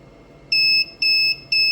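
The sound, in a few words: three beeps from coin vending machine entering price setting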